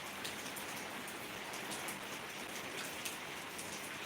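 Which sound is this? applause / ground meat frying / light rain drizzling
light rain drizzling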